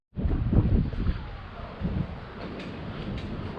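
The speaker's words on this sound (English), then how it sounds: "So you can hear the mazes testing. Wind effects and all." Wind effects from a Halloween maze being tested at a seaside amusement park, a steady rushing roar starting abruptly and carrying on with slight swells, fairly close.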